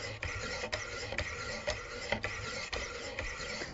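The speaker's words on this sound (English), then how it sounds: "You can already hear the difference in the way the grit of this stone is sounding against the metal." A steel knife edge is stroked across a 400-grit stone on a Wicked Edge guided sharpener, making close, steady rasping scrapes that repeat about every half second, with no talk.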